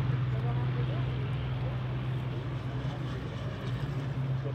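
Vintage propeller warbirds, including a Hurricane, T-6 and Beech AT-11, fly in formation at an oldtimer air show, a steady loud engine drone throughout while an announcer speaks over it.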